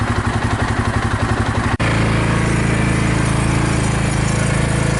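A Cub Cadet Challenger 750 utility vehicle in four-wheel drive, under diagnosis for drive line noise, revs up with a pulsing engine that snaps into a steady, loud, continuous drone as the wheels get moving.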